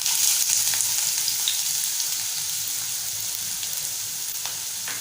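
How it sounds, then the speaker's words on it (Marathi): Finely chopped medium onion hissing in a spoonful of hot oil as a tempering for a Malvani lima bean dish, a steady, close, bright sizzle that fades slightly over a few seconds. "त्यामध्ये मीडियम आकाराचा कांदा बारीक चिरून"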